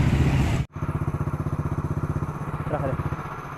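A 2002 Hero Honda Splendor motorcycle engine with a suspected clutch housing or primary gear noise idles up close after a brief cutout, putting out a steady stream of rhythmic thudding exhaust pulses.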